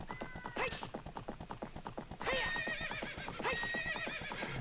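Epona's hooves clip-clop in a quick steady rhythm in the Ocarina of Time video game, broken by two loud, wavering horse neighs, with game music underneath.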